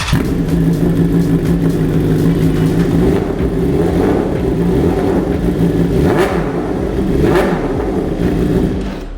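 An MV Agusta Brutale 1000RR motorcycle fitted with a titanium exhaust revs loudly and steadily, with a few sharper throttle blips rising above the continuous engine roar. No one speaks.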